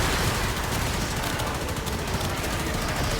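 Leatum pistol fire in Warframe during a Steel Path boss fight, a rapid stream of shots blending into a loud, dense crackle of gunfire for three seconds.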